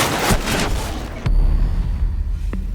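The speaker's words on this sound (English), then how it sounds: "A well-timed Vulcan explosion can be the difference between lighting up the scoreboard or going down" A Volcán shield explosion in Rainbow Six Siege: after a dense clatter of gunfire, a deep boom lands with a low rumbling roar that trails off, with a short rising whine near the end.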